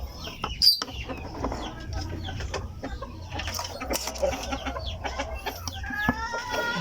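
Silkie chickens in a backyard cluck and chatter nearby while waiting for breakfast, with irregular bursts of clucks and short calls overlapping across several seconds.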